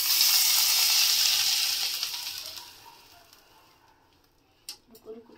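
Hot tempering of Kashmiri red chili poured into a pot of mixed saag gives a loud, close sizzle that gradually dies away over a few seconds, followed by a couple of light clinks.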